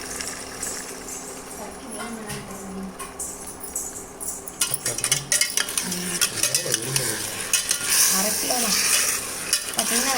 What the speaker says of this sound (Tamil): நல்லா கிண்டி விட்டுக்கணும் நீங்களும் நல்லா கிண்டி விட்டுக்கோங்க